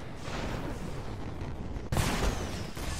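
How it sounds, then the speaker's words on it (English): Turrets fire rockets in the Marvel's Avengers beta, a sudden loud burst of blasts and whooshing cutting in over steady rumbling combat noise, with no talking. "I didn't know rockets will be coming at me."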